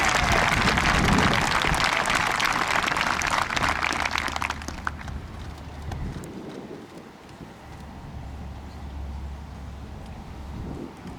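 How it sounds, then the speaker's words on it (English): An audience at a West Point Class of 1959 reunion ceremony gives loud, sustained applause for the awardees. The clapping is dense at first, then thins into scattered claps and fades to a quieter background. "Please join me in one more round of applause for our awardees"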